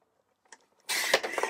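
A single sharp cut through designer paper, a sudden close rasping slice after near silence, lasting under a second, with no talking.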